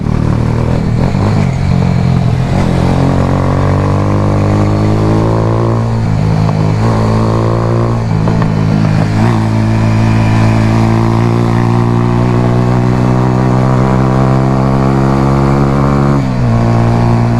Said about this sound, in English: this is why it's fun to ride a slow bike fast